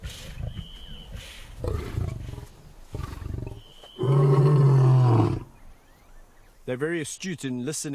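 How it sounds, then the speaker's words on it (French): Lion roaring in a wildlife park, one loud, deep, sustained roar lasting over a second in the middle, with a narrator's voice speaking before and after it. "Dès qu'un lion rugit dans le parc, tous les autres l'écoutent attentivement pour savoir de qui il s'agit."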